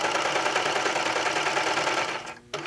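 A serger sewing machine runs steadily while stitching along a blanket edge, a loud, continuous mechanical whir that drops off briefly near the end before starting up again.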